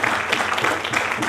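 A lecture audience claps in a brief, dense burst of many hands, loud and continuous throughout.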